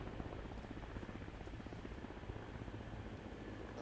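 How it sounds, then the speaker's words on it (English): A helicopter passes overhead as a steady, dense rotor drone with a faint rapid chop. It is fairly distant and unbroken, with no voices over it. "I'll wait for this fucking helicopter to fly over"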